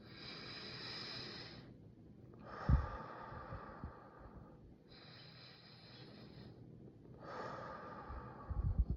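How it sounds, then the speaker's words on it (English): Slow, deliberate breathing exercise, long drawn inhales through the nose and exhales out the mouth alternating in an even rhythm, close and fairly soft with no talking. "Just start slowing down your breath."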